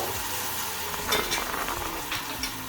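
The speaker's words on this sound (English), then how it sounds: "We are going to allow this pepper to cook properly" Pepper cooks in a pot for Nigerian egusi soup, a continuous close sizzle with a few brief stirring scrapes and clinks rising over it near the middle and end.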